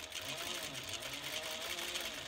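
Sewing machine stitching around the bottom of a handbag: a steady, soft, continuous whir of the running motor throughout, with a voice talking over it.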